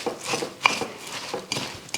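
Chocolate ball mixture of cacao powder and condensed milk being stirred in a bowl, with soft scraping and light clinks of a utensil against the bowl bottom, close and fairly quiet, no talk.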